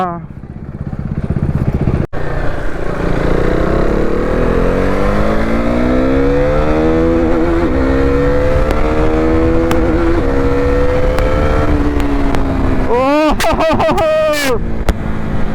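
A BS3 KTM Duke 390 motorcycle engine revs up close, its pitch climbing and sagging in a long continuous drone, then a few quick sharp throttle blips at the end.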